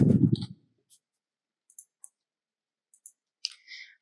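Sparse, crisp computer mouse clicks while working in InDesign, a handful of isolated single and double clicks spread across near silence, following a brief bit of low sound at the start.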